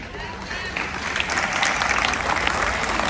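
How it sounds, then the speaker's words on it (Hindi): Brief burst of applause from an audience at a Bharat Vikas Parishad event in Rohini, steady clapping that builds slightly and holds, with some voices mixed into the crowd. "तालियां बजाने में आप कंजूसी नहीं करेंगे"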